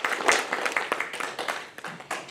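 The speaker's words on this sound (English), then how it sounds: "Can we give a round of applause to our beloved sponsors?" Scattered applause from a modest audience at an award night celebration in New York, a thin, uneven run of individual claps rather than a dense roar.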